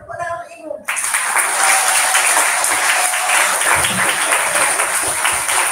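An audience claps loudly and steadily in a school hall at a retirement ceremony for a teacher, a dense sustained applause that starts after a brief moment of speech and continues without pause.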